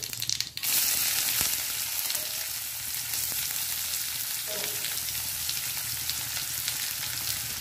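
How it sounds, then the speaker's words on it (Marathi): Onion, mustard seeds and cumin fry in hot oil, a steady loud sizzle with a sharp crackle at the start and faint stirring scrapes throughout, no voices. "तेल घातलेलं आहे। मोहरी, जिरे व आता कांदा घालणार आहोत।"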